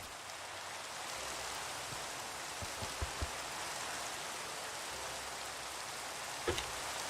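Steady Minecraft rain in the Nomifactory modpack hisses evenly and continuously, with a few faint clicks scattered through it.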